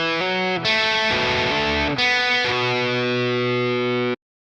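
Heavily distorted electric guitar plays the opening bar of a riff, a few loud chugging notes and chords ending on a long ringing chord that cuts off abruptly.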